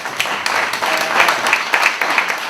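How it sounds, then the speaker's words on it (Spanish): An audience at a housing fair talk applauds, a dense, fairly loud wash of clapping that holds steady throughout with no speech over it. "Un aplauso para Javi."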